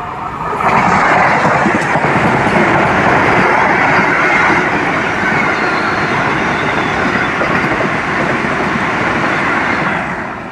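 The Tirunelveli–Chennai Egmore Vande Bharat Express rushes past close by, a loud sustained roar of wheels and rail clatter that swells quickly and holds for about ten seconds before easing.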